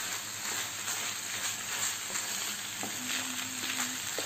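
Onion and pepper fry in a pan with a loud, continuous, crackling sizzle and a few faint scrapes of stirring, with no voices over it.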